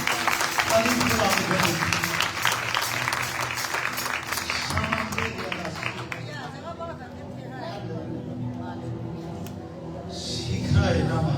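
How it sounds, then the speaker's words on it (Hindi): A congregation at a Palm Sunday celebration claps in praise, a dense, loud, rhythmic burst of hands under voices and chatter that thins out and fades midway, leaving talk and murmuring. "आओ यीशु ले ताली बजाओ प्रेज़ गॉड ताली बजाओ"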